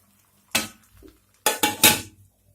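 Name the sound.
pot being covered with a lid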